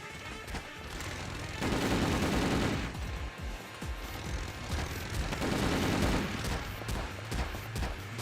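Rapid, sustained Gatling gun fire in the Ghost in the Shell Stand Alone Complex video game, dense loud bursts swelling and easing across the whole stretch with no talk over it.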